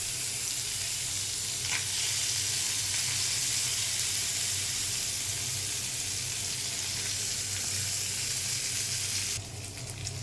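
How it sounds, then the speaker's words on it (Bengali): Koi fish frying in oil in a pan until crisp, a loud, even, continuous sizzle with a brief clatter near the end. "ওই মাছটা একটু কড়া করে ভাজতে হবে"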